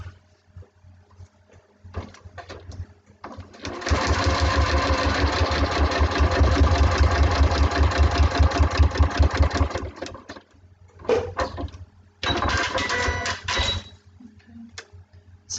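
Sewing machine stitching along the printed line of a foundation paper-pieced mini alphabet quilt block, running in a steady fast burst of rapid needle strokes, then stopping and restarting for a shorter second run, close and loud with no talk.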